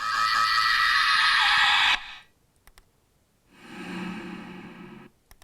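Two screams in a music track: a long, harsh high-pitched shriek, a pause, then a lower, drawn-out wailing scream, both loud and processed.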